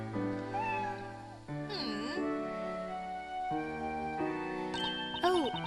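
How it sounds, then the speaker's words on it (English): A cat meows in the Professor Layton vs. Phoenix Wright video game, with several soft, rising mews over gentle background music. "It's such a cute cat."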